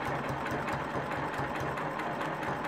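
Sewing machine stitching a quilt row, a steady rapid mechanical chatter with an even pulsing rhythm, close and continuous throughout with no talking.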